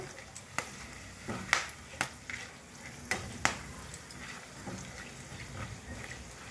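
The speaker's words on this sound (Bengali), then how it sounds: "এলাচি, দারচিনি, লং, এটা আমি ফোড়ন দিচ্ছি" Cardamom, cinnamon and cloves sizzling in hot oil, a soft bed of frying hiss broken by sharp clinks and scrapes of stirring against the pan, quiet and close.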